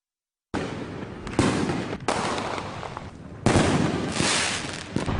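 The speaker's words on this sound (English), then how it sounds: "a barrage of fireworks lit up Boyle Heights." Fireworks burst in a rapid barrage of loud, crackling explosions over Boyle Heights, Los Angeles, several big booms layered over continuous popping, heard outdoors at close to middle distance.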